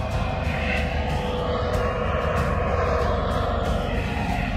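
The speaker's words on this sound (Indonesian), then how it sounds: "Berisik banget helikopternya. Sebel. Itu helikopter SAR deh." A search-and-rescue helicopter drones loudly and steadily overhead at El Matador beach in Malibu, its rotor chop a continuous throbbing roar that never fades during the few seconds.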